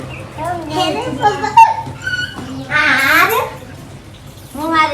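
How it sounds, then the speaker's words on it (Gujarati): Kittens indoors in a house give a few high, thin meows, mixed with children's voices talking and calling nearby throughout. "આપણા બિલાડીના બચ્ચે આવી ઘરમાં આપણે જોઈએ"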